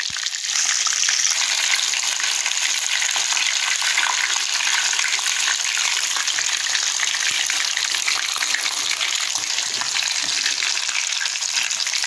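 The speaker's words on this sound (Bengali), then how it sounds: "এরকম করে আমি উল্টে পাল্টে মুরগিটা ভালো করে ভেজে নিচ্ছি" Chicken frying in hot oil in a village kitchen, being turned over: a steady, loud, close sizzle with crackling spatter runs continuously with no voices.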